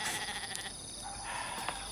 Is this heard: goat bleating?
yes